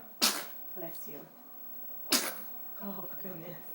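An infant sneezes twice, each a sudden sharp burst close to the microphone, with soft vocal sounds and an adult's brief voice in between.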